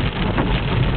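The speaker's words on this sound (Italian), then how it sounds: "è da stamani alle 7:30 che piove" Heavy, steady rain has been falling since early morning, flooding a roadway; a dense, continuous hiss of downpour with no pauses or voices.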